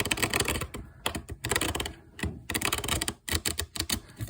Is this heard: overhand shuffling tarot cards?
yes